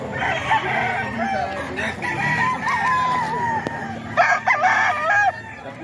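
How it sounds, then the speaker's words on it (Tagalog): Gamecock roosters crow repeatedly in a Tondo cockfighting setting, several overlapping crows rising and falling close by, with a louder cluster of calls near the end amid background clucking. "Mga manok ni Boss Russell to."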